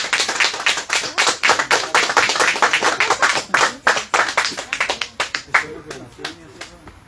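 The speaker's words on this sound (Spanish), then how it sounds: "Un aplauso al Señor, hermano." Church members clap for the Lord in a lively, fairly quick rhythm of sharp individual hand claps close by, slightly uneven and thinning out toward the end.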